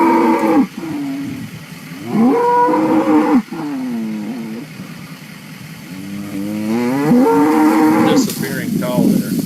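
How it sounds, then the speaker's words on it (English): Cattle mooing in a farm field: several long, drawn-out moos follow one another, loud and close, with wavering pitch and brief gaps between calls. "Disappearing cow there."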